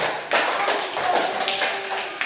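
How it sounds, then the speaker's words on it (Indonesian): A classroom of students claps for group 3 after their presentation, a dense patter of hand claps starting abruptly and running steadily for a couple of seconds, fairly close. "Kasih tepuk tangan dulu untuk kelompok 3."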